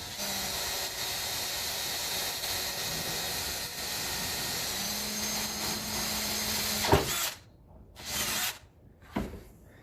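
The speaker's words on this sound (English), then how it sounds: "Try to drill these in a straight line." A power drill with a 23/64 bit drills holes for a gravity-fed chicken watering system, whirring steadily for several seconds with a high hissing whine, then cutting out and restarting in short bursts.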